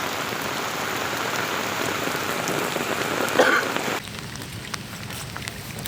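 Heavy rain pours steadily in a storm with wind, a dense continuous hiss that drops somewhat quieter for the last two seconds.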